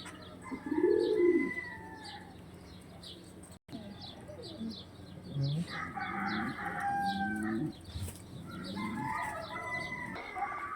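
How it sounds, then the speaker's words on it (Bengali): Chickens cluck and squawk nearby on a farm, with repeated bursts of calls, a rooster crowing and other birds, all moderately faint against a quiet background. "এই যে দেখেন মুরগি"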